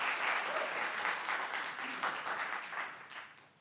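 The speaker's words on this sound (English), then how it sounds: "The rules do not permit outbursts, clapping during public comments." Audience clapping breaks out during public comments at a county commissioners' meeting, a dense, steady applause from a room full of people that gradually thins and fades toward the end.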